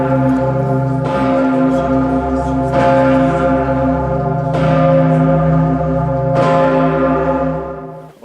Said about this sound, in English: the famous bell of Vienna,